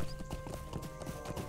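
Horse hooves in Lord of the Rings Online clip-clop in a quick, even rhythm of close, distinct steps over a short stretch, with no voice over them.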